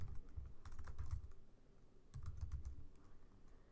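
Keys clatter on a computer keyboard in two short bursts of rapid typing while Java code is entered, quiet and close with a pause between the bursts.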